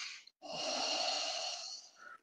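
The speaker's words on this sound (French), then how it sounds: "J'inspire par le nez, je souffle avec la respiration sonore" Audible breathing in a relaxation exercise, a short sniff in through the nose, a brief pause, then a long, steady, breathy exhale close to the microphone.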